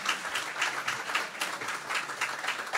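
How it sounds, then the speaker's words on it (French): A church congregation applauds the Martigues choir at a 70th-anniversary celebration of the church in Cagnes-sur-Mer, a steady, dense crowd clapping that fills the space at even loudness throughout, with no voices over it. "On peut les applaudir, s'il vous plaît."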